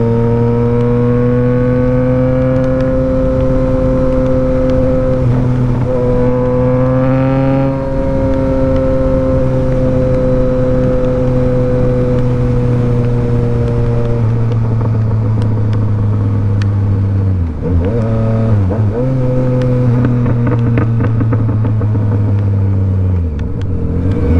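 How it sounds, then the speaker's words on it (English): A Yamaha MT-09 motorcycle accelerates hard during a wheelie, its engine loud and close with a steady strong drone that rises in pitch, drops briefly between gears, then climbs again, with no voices. "I need to do one last wheelie down here"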